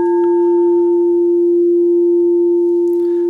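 A singing bowl rings with a steady, pure sustained tone and a clear higher overtone, holding loud and even throughout with no voices.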